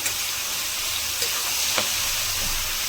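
Sliced ridge gourd frying in hot oil and being stirred, a steady dense sizzle with occasional scraping clicks of the spoon, close and continuous, no voices.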